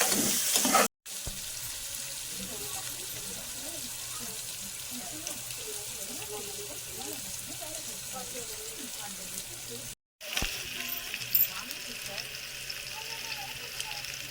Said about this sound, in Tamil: அடுத்தது ஆனியன், பொன்முருவில் இப்போ வறுக்கணும்